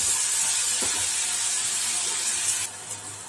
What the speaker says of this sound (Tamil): இதுக்கப்புறம் நான் வேக வச்ச பாயில்டு கடலை எல்லாம் இது எல்லாத்தையுமே போட்டு நல்லா வதக்கி வச்சுக்கலாம்.